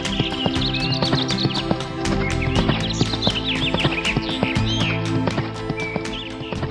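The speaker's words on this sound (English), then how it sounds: "Morris leapt on his horse Philip and rode off." A horse gallops away in a forest setting with rhythmic, clear clip-clop hoofbeats and a whinny, while birds chirp faintly in the background.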